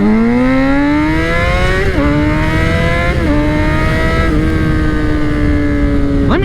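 A motorcycle accelerates hard along a trail, its loud, continuous engine note climbing in pitch and dropping briefly at several gear shifts, heard close and without talk.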